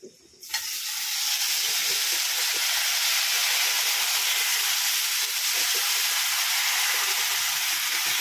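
Cut eggplant pieces hit hot oil and burst into a loud, steady hiss and sizzle that starts abruptly and holds evenly, close up with no talking.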